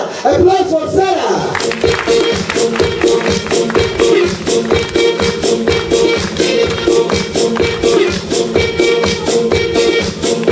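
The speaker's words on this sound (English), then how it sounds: "Applause for Sarah." Audience at a hotel comedy night clapping rhythmically together for an entertainer, loud, dense claps in a steady beat with crowd noise and voices mixed in.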